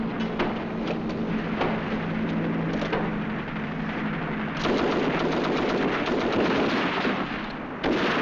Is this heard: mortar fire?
yes